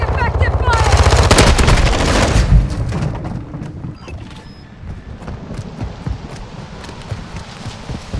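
Rapid automatic gunfire in Call of Duty: Modern Warfare 2 on the Lighthouse map: a loud, dense burst of rattling shots, then scattered lighter firing and clatter, with voices now and then.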